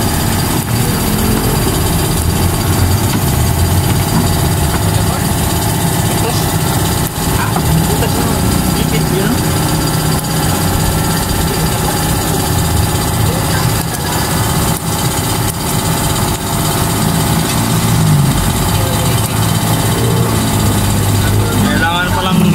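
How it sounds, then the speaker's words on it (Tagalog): An air compressor motor drones continuously at a steady pitch, loud and close, with faint voices in the background. "Compressor pala yun, compressor."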